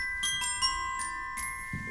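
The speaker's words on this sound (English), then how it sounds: "the next instrument we have here that Trevor's gonna play is known as the bells" Percussion bells are struck several times in a light, quick pattern. Bright, sustained ringing tones overlap softly at moderate volume, with a low thump near the end.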